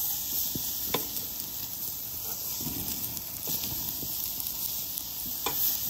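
Steaks sear on 650-degree cast iron in a Chargriller Akorn Jr, giving a steady close sizzle with crackles and occasional pops throughout, loud and with no talking.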